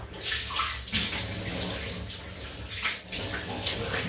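Water running from a tap to rinse a safety razor, a loud, continuous gushing splash with a few brief dips where the flow is interrupted, close to the microphone.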